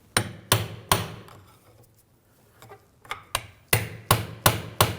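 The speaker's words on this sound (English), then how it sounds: "Now underneath the axle, I'm just going to take a pry bar. Give it a tap, just try to break it free from the differential." A pry bar taps sharply against the rear CV axle of a 2007–2013 BMW 328i 3.0L inline-six, striking it free from the differential. Loud metallic knocks come in two rhythmic bursts separated by a short pause.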